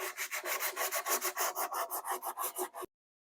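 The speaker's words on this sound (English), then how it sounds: "So we're going to just sand it right here using some scrap wood, block and piece of sandpaper." Hand sanding of a wooden side table with 220 grit sandpaper on a scrap wood block makes a close, rhythmic series of about fifteen quick rasping back-and-forth strokes that stop abruptly, with no talking.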